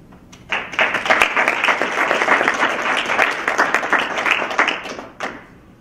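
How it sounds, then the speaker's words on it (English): An audience at a Poetry Out Loud regional final in Central Ohio bursts into warm applause, steady dense clapping for about five seconds before fading out, with no talk over it. "Can we have another round of applause?"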